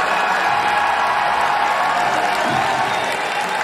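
A large crowd at the Pokémon World Championship finals applauds and cheers steadily, a dense continuous roar of clapping and whoops filling the hall without pause.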